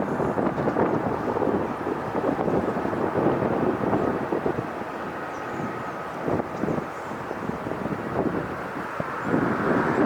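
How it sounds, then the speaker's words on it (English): A Viva Airlines A320-200 airliner departs LAX during reverse operations. Its engines give a loud, continuous low roar and rumble that holds steady through the clip, buffeted by wind noise. There is no talking. "This is Viva Airlines Flight 511 A320-200 going to Guadalajara"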